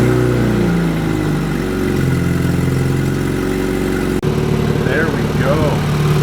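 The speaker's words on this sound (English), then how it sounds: "Car is idling, bleeding the coolant, running good." A car engine idles steadily while its cooling system is being refilled and the coolant bled, a rough, low running hum throughout, briefly cut off near the end before resuming, with someone speaking over it.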